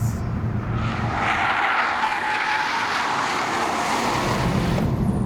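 A steady, loud roar of an Alpina D4 Biturbo diesel's rear tyres in wheelspin and engine noise, a broad continuous hiss that holds evenly throughout.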